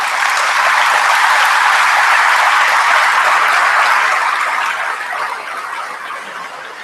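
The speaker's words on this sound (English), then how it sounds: "Let's give a round of applause" A large conference audience at a world parks congress closing plenary applauds Indigenous rangers, a dense, loud wash of clapping that holds steady and then gradually tapers toward the end.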